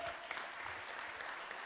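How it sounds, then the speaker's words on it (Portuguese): Audience applause in a church setting, a soft continuous patter of clapping hands, faint and even, heard from some distance. "Pode aplaudir, eu acho que a casa caiu"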